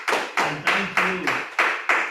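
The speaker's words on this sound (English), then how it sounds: "Another round of applause virtually as well for Toastmaster Summer" A single person claps steadily about six times at an even pace during a virtual Toastmasters meeting, each clap close and sharp with a short decay.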